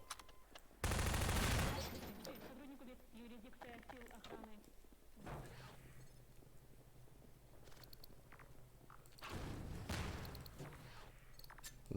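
Gunfire in Half-Life 2 cuts in as a loud, dense burst of rapid shots, then goes quiet while a person talks, and a second shorter burst follows near the end.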